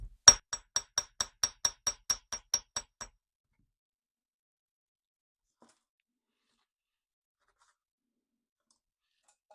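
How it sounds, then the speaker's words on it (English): Copper wire for hand-shaped earrings is flattened with a hammer: about a dozen crisp, evenly spaced metallic taps in quick rhythm, close and clear, then silence. "initially we're going for just flattening out this wire"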